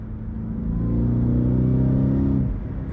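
Ford F-150 Raptor R engine pulling in gear from around 3,500 RPM, a deep rising rumble heard from inside the cab that builds and then eases off, with no talking.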